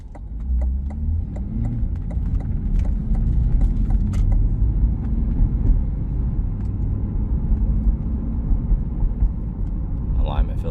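A 2020 Chevrolet Corvette driving on the road, heard from inside as a steady low engine and road rumble with light ticks and rattles at a constant level, with a voice in the cabin.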